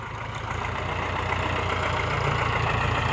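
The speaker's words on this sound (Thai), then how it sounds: "วันนี้เราพามาดูรถคีบ ใส่ตัวตักครับมาตักมัน" A Ford 6610 tractor fitted with a grab loader idles steadily while loading cassava, a low, continuous diesel rumble with an even throb that stays at a constant level throughout, with no voices.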